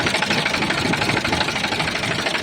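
A New Holland 4710 four-wheel-drive tractor's three-cylinder diesel engine runs loudly and steadily nearby, a constant rough rumble with rapid knocking pulses and no voices.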